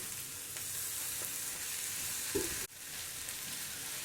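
Tomatoes going into a pan of frying potato and capsicum bring a steady, close sizzle that holds throughout, with a brief louder splash and crackle midway and then an abrupt cutoff followed by more frying.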